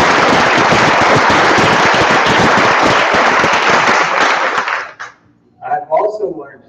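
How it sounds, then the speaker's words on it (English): Audience applause for the holiday shows in Thorne Hall: a loud, dense burst of clapping that runs steadily for about five seconds, then cuts off, and a voice briefly follows. "give a round of applause"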